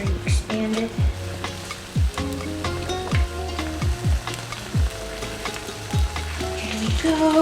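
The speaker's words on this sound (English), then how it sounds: "Nothing like the sound of sizzling dumplings to get us going" Dumplings frying in a pan, a steady crackling sizzle under a recurring rhythmic pattern of short pulses, close and fairly loud with no voices.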